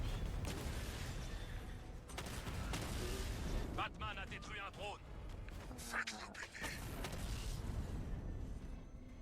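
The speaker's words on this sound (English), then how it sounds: "use your missile barrage" Missile barrage in the Batman Arkham Knight video game, a dense run of booming explosions and rumbling blasts with whistling streaks, loud throughout, while people talk over it.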